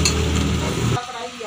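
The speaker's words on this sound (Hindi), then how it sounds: "हमने इनको घी में फ्राई कर लिया थोड़ा सा" Potatoes sizzle and crackle as they fry and are stirred in ghee in a pan, a steady close hiss that drops away abruptly near the end.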